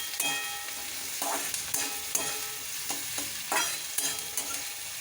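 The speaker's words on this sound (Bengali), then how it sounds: "এর মধ্যে একটু টমেটো কুচোটা আমি দিয়ে দিলাম।" Chopped tomato sizzles in a hot pan of chicken khichdi base while a spoon stirs it, giving steady frying hiss broken by repeated scraping clinks against the pan, close and moderately quiet.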